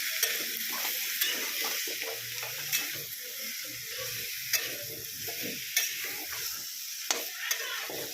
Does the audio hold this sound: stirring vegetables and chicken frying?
yes